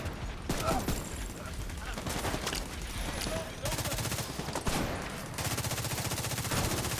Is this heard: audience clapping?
no